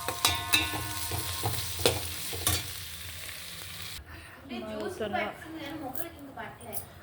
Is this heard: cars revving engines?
no